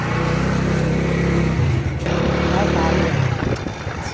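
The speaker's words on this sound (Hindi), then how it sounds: "ओके ओके चलें भाई हम बैठ गए बाइक पे।" A motorcycle in a village engine running and pulling away, a loud steady drone that shifts pitch as it moves off, with voices talking over it.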